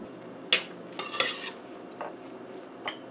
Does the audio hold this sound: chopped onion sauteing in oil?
yes